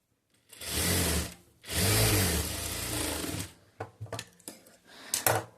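A sewing machine runs long stitches along a blouse hem in two sustained mechanical bursts, loud and close, followed by a few short clicking runs and handling sounds with no talking.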